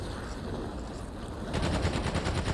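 Rapid automatic gunfire from the video game Remnant 2 rattles continuously, growing louder and denser partway through, dense and close with no talking.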